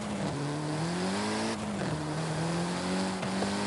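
A Porsche in the racing video game Forza Horizon 5 drones on as a continuous, loud engine tone whose pitch rises and dips through shifts and throttle changes.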